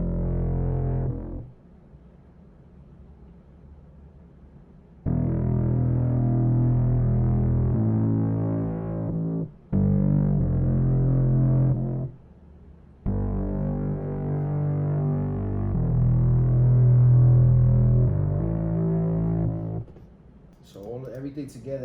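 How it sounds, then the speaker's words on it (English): A filtered, distorted bass line from an RnB beat plays alone in thick, sustained low notes, broken by short gaps between phrases, with a brief bit of other sound at the very end. "And so this is the bass line by itself."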